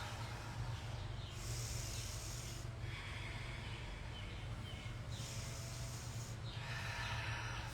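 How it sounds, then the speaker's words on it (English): Slow, breathy exhalations and inhalations during a beginner's yoga flow, three long rushing breaths in a steady rhythm over a constant low hum, close to the microphone. "Long as you breathe in. Strong as you breathe out."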